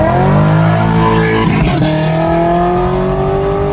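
Loud cars racing from a standing start, engines revving hard with rising pitch as they accelerate away together, a steady roar with a brief dip midway before climbing again.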